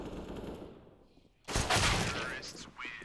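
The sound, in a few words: pistol gunfire during a retake in the video game CS:GO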